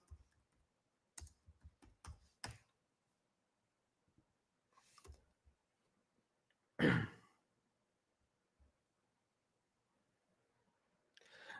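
A computer keyboard typed on in short clustered bursts of clicks separated by silences, with a loud throat clearing or sigh in the middle, all fairly faint.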